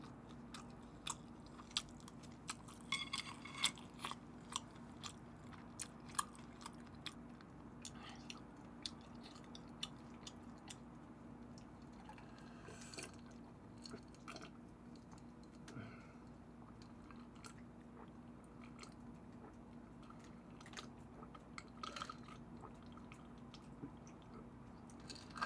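Chewing on squid from a spicy tteokbokki set with fish cake, soft wet bites and squishy mouth sounds repeating close up through a quiet room.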